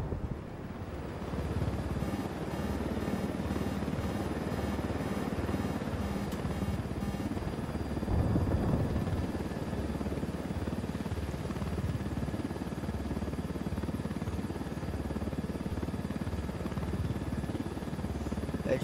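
Helicopter in the Ghost Recon Wildlands video game, a steady loud rotor and engine drone with wind-like rumble running unbroken through the whole stretch, no talk over it.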